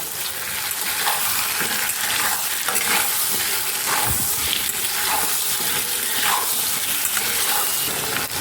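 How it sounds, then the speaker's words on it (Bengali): Potatoes and catla fish sautéing in oil with salt in a pan, a dense, loud, continuous sizzle broken by repeated scraping stirs, heard up close with no talk. "লবণটা দিয়ে এক মিনিট কষিয়ে নেবো"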